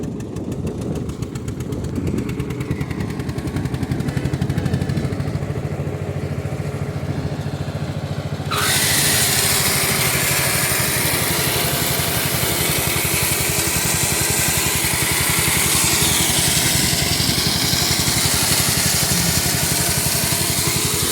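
Loud, steady tractor engine drone with a rhythmic knock, then a sudden shift to a broader, louder roar as the tractor-driven generator powers a machine at a timber market and runs continuously.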